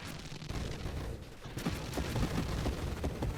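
Dense, continuous gunfire from a machine gun build in the space shooter Nova Drift, a steady wash of rapid shots with sharper bursts toward the end, loud and unbroken throughout.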